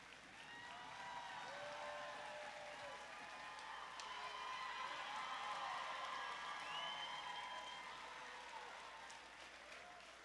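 Sustained applause from a large crowd at a 2018 high school graduation, steady clapping with a few scattered cheers, continuing for the whole stretch at an even level.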